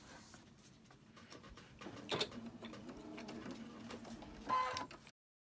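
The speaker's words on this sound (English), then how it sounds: "let me get these two sewn" A sewing machine stitches quilt blocks in a quiet room, giving a faint, brief whir that rises for a couple of seconds, with a few soft clicks before it stops.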